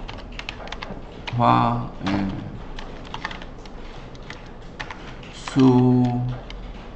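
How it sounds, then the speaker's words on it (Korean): Tab key struck on a computer keyboard, several crisp close key clicks scattered among two louder spoken bursts, keystrokes light and intermittent under the talking. "다시 탭을 한 번 더 치면"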